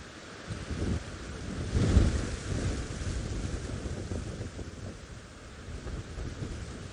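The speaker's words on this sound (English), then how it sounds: "it's very windy" Strong wind buffets the microphone outdoors on an evening safari drive in the African bush, a steady rushing roar with a louder gust swelling early on, no voices.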